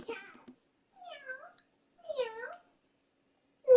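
A cat meows three times with short pauses between, clear and close, followed by the start of another meow at the end.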